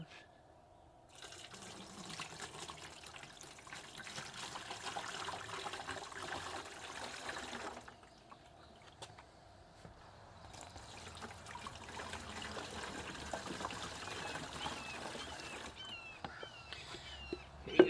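Water from a gallon jug trickles and pours into the plastic tank of a backpack lawn sprayer, a steady quiet fill that pauses near the middle and then resumes.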